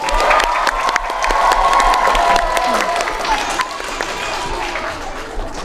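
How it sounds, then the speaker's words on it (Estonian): Applause from a school playback show crowd, loud clapping mingled with cheers and children's voices, holding strong before gradually easing off toward the end. "Suur aplaus."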